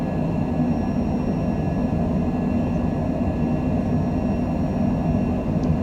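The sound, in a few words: small airplane accelerating on takeoff roll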